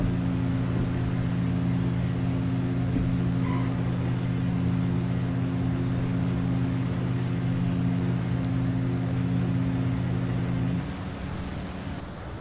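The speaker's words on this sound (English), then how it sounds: "Nice smooth run up on the engine." Diamond DA40 single-engine propeller aircraft in the Flight Sim World game, a steady droning engine hum with strong low tones holding evenly for about eleven seconds before dropping abruptly to a quieter level, with no voices.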